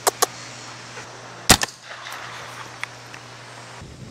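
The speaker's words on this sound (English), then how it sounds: "Take a few shots at that box and see if we're back close to the bullseye." Sharp rifle shots fired at a box target on open private land, with a pair of quick cracks at the start and a louder, closer shot mid-clip, each followed by brief echo and quiet between.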